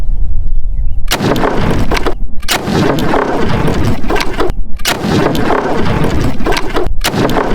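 Gunshots from a 45-70 Government rifle and a .58 caliber muzzle loader fired outdoors, loud close booms in a series of about six heavy reports with short gaps, each followed by a rumbling tail.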